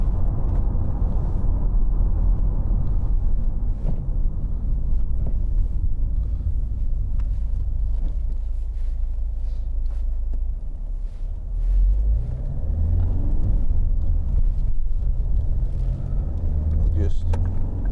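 A 2011 Ford Mondeo 2.0 TDCi Zetec five-door hatchback drives along, its steady engine and road rumble continuous and close, with wind noise and a slight change in engine note partway through.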